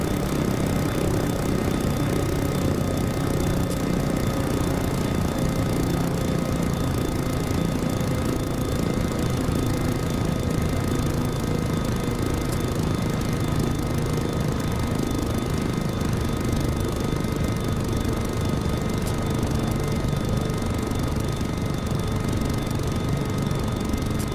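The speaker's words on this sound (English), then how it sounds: "Once the skids are safely down, we can lower collective and shut down the engine." An MD500 helicopter engine is shut down in a flight simulator. A continuous loud turbine and rotor drone runs throughout while its whining tone slowly winds downward.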